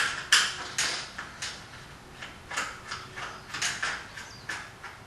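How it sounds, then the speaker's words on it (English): Metallic clicks and short scraping ticks, repeated at uneven intervals, come from a screwdriver backing out the ground wire screw on a surface-mounted fluorescent light fixture, close and alone. "I just can undo that screw right there."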